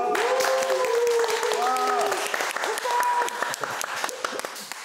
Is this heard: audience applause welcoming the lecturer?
yes